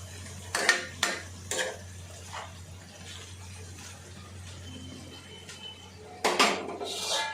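A spoon scrapes and knocks against a pan while stuffed eggplant curry is turned over, a few clinks early and a louder cluster near the end, with a faint low hum beneath.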